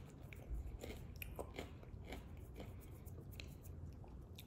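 Doritos chips are bitten and chewed close to the mic in an ASMR lunch setting. The crisp crunches repeat in an irregular rhythm and are quiet, with no talk.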